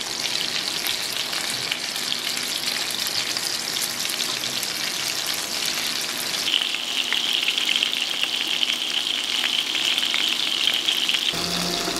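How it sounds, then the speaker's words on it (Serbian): Valjuške fry in a pan, a loud continuous sizzle and crackle of hot oil that carries on steadily, brightening partway through as the frying intensifies, with no speech. "Nakon 3 minuta okrećemo ih na drugu stranu i isto pržimo između 2 i 3 minuta"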